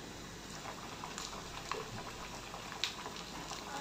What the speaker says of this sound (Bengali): এখন একটা ছোট লোহার কড়াইতে আমি ভেজে নিচ্ছি।